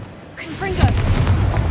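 A voice calls out a spell, then a Confringo fire blast in the video game Hogwarts Legacy lands as a muffled, rumbling boom and crackle that carries on briefly.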